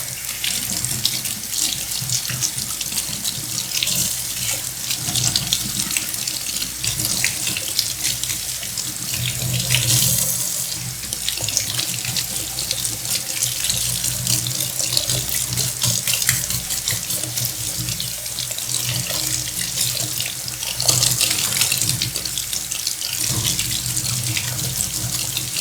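A running tap pours a steady stream of water over surplus steel magazines, rinsing grit away, with continuous splashing that hisses close-up for the whole stretch and swells briefly louder at times.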